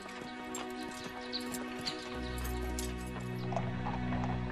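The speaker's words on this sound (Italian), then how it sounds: "I grandi cavalli di razza Shire lavorano la terra, arano i campi e trasportano il raccolto al mercato." Heavy Shire draught horses at farm work, their hooves clip-clopping in an irregular rhythm over a steady low rumble, fairly close and moderately loud, with no talk.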